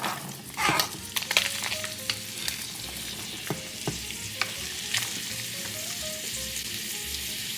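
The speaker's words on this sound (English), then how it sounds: "I'm going to add my onion and garlic right here" Ground beef sizzles in a hot pan as onion and garlic go in, a steady close fry with a string of spoon scrapes and clinks against the pan.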